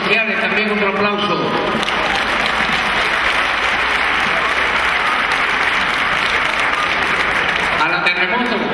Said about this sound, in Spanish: Al personal de Asuntos Sociales también otro aplauso.